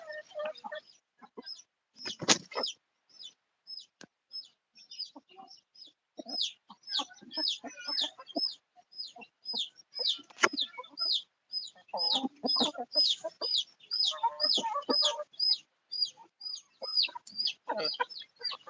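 Desi and Siamese chickens cluck on a farm in a steady series of short repeated calls, close and fairly loud, with a few sharper squawks and faint background noise and no talk.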